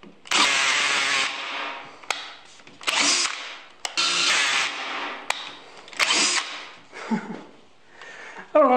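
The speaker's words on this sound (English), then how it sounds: "I'm only using a handheld drill" Handheld power drill boring into maple wood for a segmented sculpture, several loud whining bursts of a few seconds each, separated by short pauses and sharp clicks, close up.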